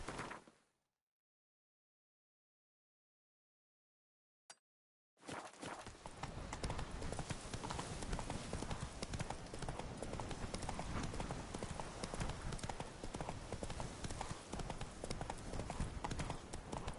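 Hooves of a horse clip-clop steadily at a trot in The Witcher 3 video game, a dense continuous patter running loud and close after a brief quiet gap, with no talk over it.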